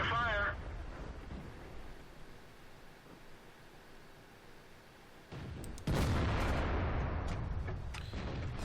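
Tank main gun firing in the Combat Mission video game: after a brief voice, a long quiet low rumble, then a sudden loud boom near the end with a sharp crack and a sustained roar.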